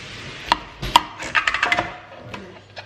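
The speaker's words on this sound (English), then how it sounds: "with this recipe, we just cut it into thin slices." A knife slices cucumber into thin slices on a cutting board, with a series of crisp, close taps, a few isolated cuts followed by a quicker run of strokes, fairly quiet with no talking.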